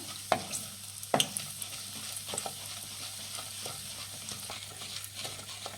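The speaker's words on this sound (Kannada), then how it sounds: "ಉದ್ದಿನಬೇಳೆ ಹಾಕ್ಕೊಳ್ಳಿ ಫ್ರೆಂಡ್ಸ್. ಒಂದು ಸ್ವಲ್ಪ ಉರಿ ಕಮ್ಮಿ ಇಟ್ಟು ಫ್ರೈ ಮಾಡಿ ಇದನ್ನು" Urad dal frying on low heat in a pan for upma gives a faint steady sizzle, broken by a few sharp clicks of a spoon stirring against the pan.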